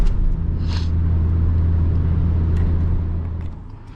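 From inside a stage 1 tuned Hyundai Verna Turbo with DCT gearbox, the engine drones as a steady low cabin hum, with faint clicks over it, fading slightly toward the end.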